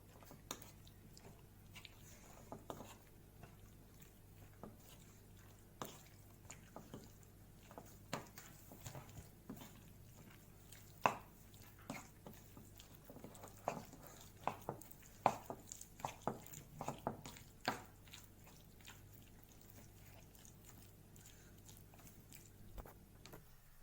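Chicken pakora batter being mixed by hand with egg and cornstarch, giving soft wet squelching and tapping sounds in irregular bursts, close and fairly quiet, with no talking.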